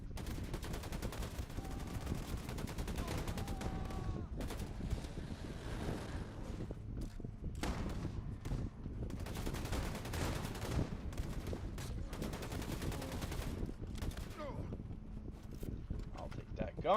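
Gunfire in the video game Wolfenstein 2: The New Colossus, a dense run of sharp shots and bursts that carries through the whole clip over background game noise and a muffled wind-like roar.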